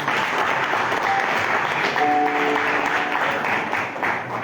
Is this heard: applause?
yes